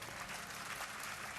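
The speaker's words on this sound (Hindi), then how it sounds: "अपनी गलतियों पर ताली बजा रहे।" Audience applause at a live Hindi spoken program, a dense, steady patter of many hands clapping, heard fairly quiet and distant for a brief moment with no talking over it.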